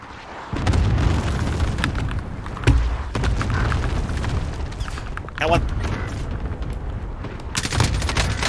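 Cluster strike explosions boom and crackle through a Call of Duty Warzone match, a dense rolling barrage of blasts and pops with louder bursts near the start and middle, while players talk over the game audio.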